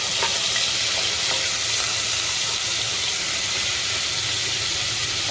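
A teaspoon of ginger garlic paste fries in hot oil in a pan, making a constant, dense sizzling hiss with a few faint stirring clicks.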